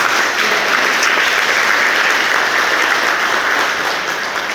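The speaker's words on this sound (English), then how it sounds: "That deserves an applause" Loud, dense applause fills the room at an awards dinner, an unbroken roar of many hands clapping at once, steady throughout.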